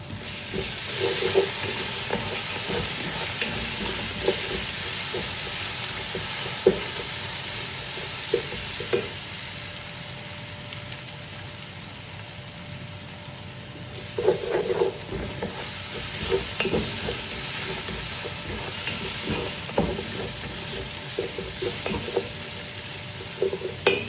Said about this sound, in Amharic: በደቃቁ ተከተፈ ሽንኩርት እንደዚህ በጣም ሲጠበስ ሽንኩርቱ ነጭ ሽንኩርት እንጨምራለን።